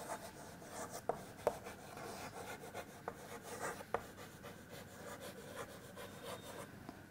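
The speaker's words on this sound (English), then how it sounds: "here I'm going to write number 5" A number being handwritten, probably on a board during a general knowledge quiz lesson, with a steady scratchy rub of strokes and a few sharper taps, close and moderately quiet, without speech.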